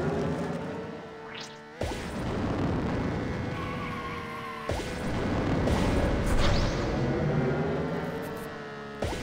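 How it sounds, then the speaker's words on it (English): Rocket explosions in the racing video game Beach Buggy Racing 2: two sudden blasts a few seconds apart burst over a constant roaring engine drone and rushing noise. "three rockets"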